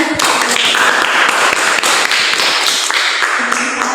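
Classroom applause from a group of teacher-training participants during a science lesson presentation, a dense steady patter of many hands clapping, fairly loud and close, running for several seconds.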